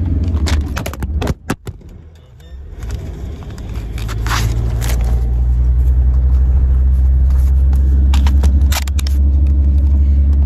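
Inside a moving car, a steady low road and engine rumble fills the cabin, with a few sharp knocks and scrapes of handling near the start and no talk.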